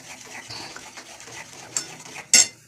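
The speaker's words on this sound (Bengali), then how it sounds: "এবার এটা নাড়তে হবে অনবরত।" Homemade vegetarian tomato sauce being stirred in a pan: soft, continuous scraping and light utensil contact, quiet throughout, ending in a sharp metallic clink near the end.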